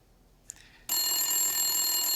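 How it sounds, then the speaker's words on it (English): A telephone rings loudly and continuously up close, a bright electronic trill that begins abruptly after a brief click. "Phone's ringing."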